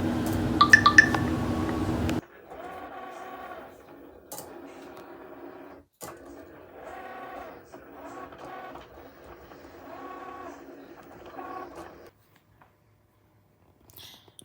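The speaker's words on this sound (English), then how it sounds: "As you see, the Cricut is doing its job. It's cutting the logo out that she wanted." A Cricut cutting machine slices a logo from black vinyl, its motor giving off repeated whirring, buzzing passes with short pauses between them, close and steady. A louder burst of handling noise comes first, and the end goes quiet.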